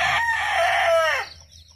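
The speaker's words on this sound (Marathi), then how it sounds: "बघा, कोंबडी सकाळी सकाळी आपल्या पिल्लांना दाणे चरायला निघाली" A rooster crows once in a village yard where a hen leads her chicks out to feed in the morning, a loud, close, drawn-out call that falls away and then stops.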